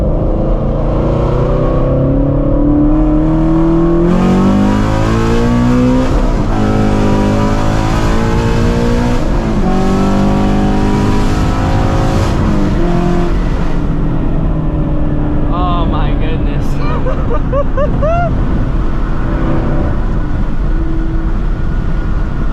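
A Shelby GT350 Mustang with a 5.2 engine, full bolt-ons and E85 fuel roars through a hard acceleration pull, its engine note climbing through gears, loud and close from inside the car, then easing off to a lower rumble.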